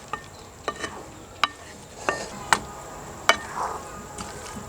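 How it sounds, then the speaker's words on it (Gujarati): A spoon scrapes and taps sharply against a pan as fried cabbage Manchurian balls are stirred into gravy, several distinct clicks at irregular intervals over a soft background hiss; no talking. "અને હવે મંચુરિયન બોલ્સને ગ્રેવી સાથે સરખી રીતે મિક્સ કરી લઈશું."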